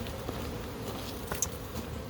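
Honey bees buzz around an open beehive during a honey crop check, a continuous close droning hum with light patter and handling sounds.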